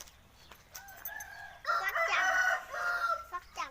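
Chickens cluck and a rooster crows nearby at a chicken hatching setup, the calls overlapping and loud in the middle.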